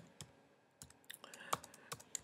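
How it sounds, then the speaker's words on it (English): Someone types on a computer keyboard while writing an email, making sparse, irregular key clicks with a few sharper taps, close but quiet in a still room. "I'm typing in capital letters."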